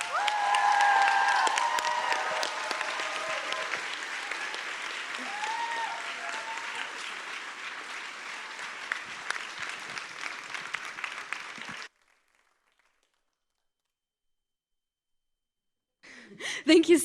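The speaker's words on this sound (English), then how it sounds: "So please, a big applause." A large crowd at a closing plenary applauds steadily for about twelve seconds, dense clapping that stops abruptly, followed by silence and then a brief noise near the end.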